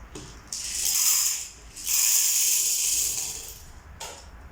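Popcorn kernels poured into a hot air popcorn maker, two long rattling pours of dry kernels into the chamber with a brief gap between them, close and clear with no talk.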